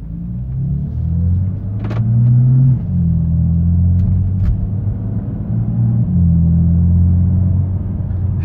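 Engine of a 2015 BMW F80 M3 while driving, a loud, steady low rumble with gear-change dips and slight rises in pitch as it accelerates, heard from inside the car without talk.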